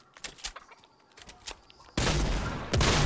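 Scattered soft clicks and taps, then a sudden loud burst of rapid gunfire in Fortnite erupts and continues heavily to the end, close and harsh.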